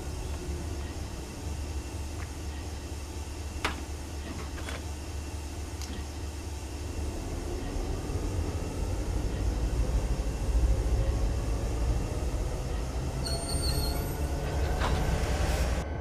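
Train cars rolling through a video game, a steady low rumble that swells and grows louder midway, with occasional sharp clanks and a brief high metallic squeal near the end.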